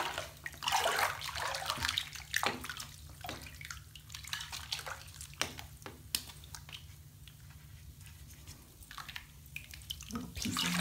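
Water swishes and sloshes in a gold pan during gold panning, quiet irregular wet splashing with small squishy surges and drips, close by and with no talking.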